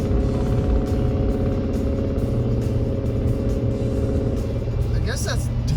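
A cheap, high-mileage diesel BMW engine runs with a loud, steady low rumble and revs up throughout, heard close from the driver's seat with no talk over it.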